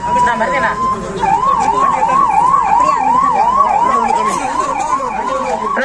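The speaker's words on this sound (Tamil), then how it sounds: "ஆம்புலன்ஸ் வருது கொஞ்சம் வழி விடுங்க" An ambulance siren wails with a fast rising-and-falling tone as it pushes through a crowd at a village election campaign stop, loud and close, with people talking underneath.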